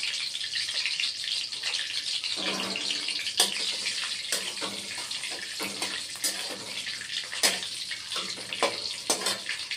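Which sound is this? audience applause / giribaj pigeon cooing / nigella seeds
nigella seeds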